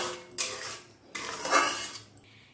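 In a pan, fried potatoes are stirred with hot water added, giving a few close scraping clinks of a utensil against the metal in two short bursts, with no voices.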